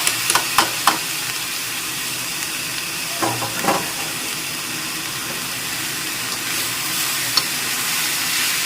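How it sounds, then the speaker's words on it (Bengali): Banana flower and grated coconut fry together in a pan, a continuous close sizzle broken by a few sharp spatula scrapes and knocks as the mixture is stirred. "খুব ভালো করে নেড়ে চেড়ে মিশিয়ে নিচ্ছি"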